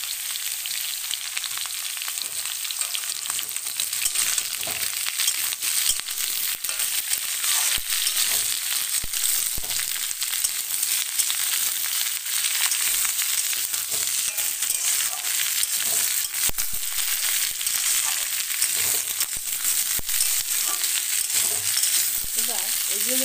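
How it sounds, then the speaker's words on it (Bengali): Eggplant, beans, carrot and green chili frying in a pan make a loud, continuous crackling sizzle that holds steady for the whole stretch, with small irregular pops. "এবার এগুলো যখন ভাজা হচ্ছে"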